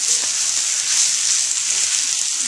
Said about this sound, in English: we're actually kind of frying the rice now, dry fry.